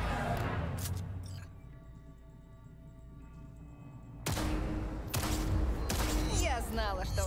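Gunfire on a shooting training range in the Cyberpunk 2077 video game: sharp bursts of shots come at the start, a quieter pause follows, then loud repeated volleys close by near the end.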